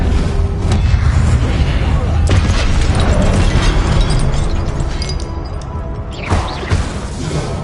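Confringo spell explosions from Hogwarts Legacy rumble loud and close, sustained booming and crashing with a sharp fresh burst near the end, while a voice speaks underneath.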